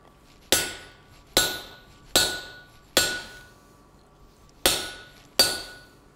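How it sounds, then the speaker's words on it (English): Six sharp, ringing hammer blows strike a steel punch being forged, each a crisp metallic clang that decays quickly, spaced roughly a second apart with one slightly longer gap. "half a dozen hammer blows, and then cool down your punch"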